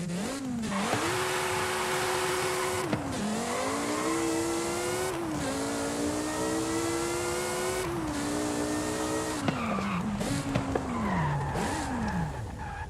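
A Porsche with a maxed naturally aspirated V10 in Forza Horizon 5 screams through repeated upshifts and rising revs, with tire squeal and skidding layered over a loud, continuous racing engine note.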